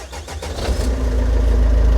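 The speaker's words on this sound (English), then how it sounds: "So whenever we start the engine" A Renault Trafic van engine cranks briefly with a few quick turns, then catches and settles into a loud, steady, low idle. The van has an alternator that is not charging.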